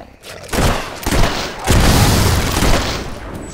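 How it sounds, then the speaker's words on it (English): Gunfire in the video game Fable 3 crackles in loud, close bursts, with several sharp volleys merging into a sustained, booming barrage. "Stop shooting our boys"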